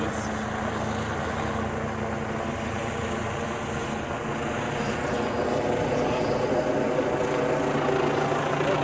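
Loud, continuous rotor thump and turbine roar of a helicopter circling low overhead in a flyby, holding steady throughout and swelling slightly toward the end.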